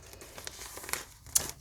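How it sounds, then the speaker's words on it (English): Paper torn roughly by hand for a junk journal, close and fairly quiet, with soft crinkling that builds into two sharper ripping bursts near the end. "I'll just kind of tear it here at the top."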